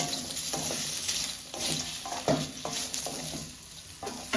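Dry spices being sautéed in a pan for a South Indian chicken curry, a low steady sizzle broken by repeated soft scraping and stirring strokes of a spatula.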